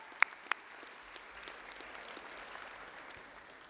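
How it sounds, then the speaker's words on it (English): Thin, scattered clapping from an audience at a 2018 Auburn University at Montgomery new student convocation, a few sharp claps early then faint, distant patter fading out. "Let's give all the students a round of applause."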